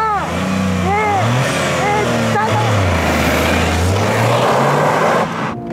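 Autocraft light-tuned Toyota GR Yaris on a full-throttle hill climb at Hachi Kogen, its engine rising and falling through gear changes, loud and close, with rapid upshifts under a steady road roar.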